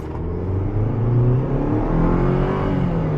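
A 2023 Chevy Colorado Trail Boss accelerates hard on a 0-60 run, heard from inside as a loud, rising engine drone with a deepening rumble and road noise, no speech.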